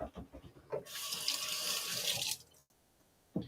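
Tap water runs steadily into a kitchen sink for about a second and a half as hands are rinsed, a broad hiss that stops abruptly, with brief soft talk and clatter before and after.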